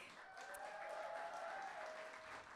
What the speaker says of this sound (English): big round of applause for everyone that just shared on the mic